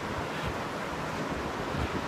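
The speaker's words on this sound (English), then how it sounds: "And then you see the ocean." Ocean waves and a breeze on the Southern California coast form a steady, broad roar of surf and wind buffeting the microphone, continuous and fairly loud with no speech.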